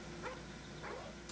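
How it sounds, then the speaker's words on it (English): Two short, fairly faint barks spaced about half a second apart from attack dogs released from a care package in the video game Call of Duty: Black Ops, heard alone without talk over a steady low game background. "So I just let the dogs out."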